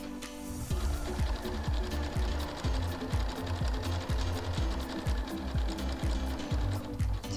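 Sewing machine stitching an applique onto fabric, a steady fast mechanical needle chatter running continuously at close range with a regular rhythmic thump.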